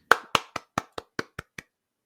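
Eight crisp hand claps, evenly spaced at a brisk steady pace, close and clear, each sharp smack a little softer than the one before, with no voices.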